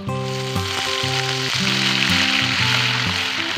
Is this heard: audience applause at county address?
no